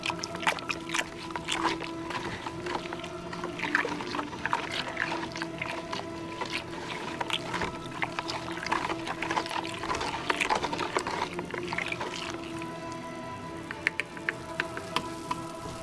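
Homemade laundry detergent is stirred in a bucket with coffee stirrers, making a continuous close sloshing and swirling of liquid with light knocks against the plastic, and no voices.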